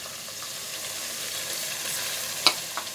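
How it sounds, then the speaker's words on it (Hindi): Chicken pieces frying in a pan for biryani give a steady close sizzle with a light stirring scrape near the end. No one talks over it. "और इसे तकरीबन 5 मिनट तक फ्राई कर लेंगे।"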